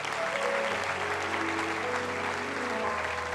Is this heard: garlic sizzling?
no